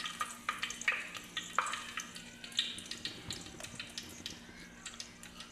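Bay leaf drops into hot oil in a heated handi pot, giving a faint sizzle under a series of light clinks and taps of a utensil against the pot at an uneven pace.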